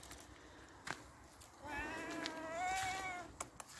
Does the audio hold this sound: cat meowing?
yes